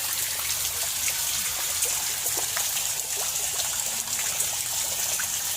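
Water from a shower runs steadily with a constant hissing spray and faint splashing, close by and uninterrupted.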